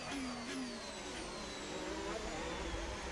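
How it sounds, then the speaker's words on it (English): Formula 1 racing car engines in the F1 25 video game, steady high-pitched whine with gear-change pitch sweeps, continuous and fairly loud, with no talking over it. "the sound of the cars might be calming"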